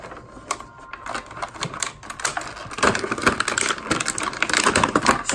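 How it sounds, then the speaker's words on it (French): Paper rustles and crinkles up close, getting louder and denser partway through, as shopping bags from the Disney store in Paris are unpacked. No talking. "Je suis désolée du bruit que ça fait le papier"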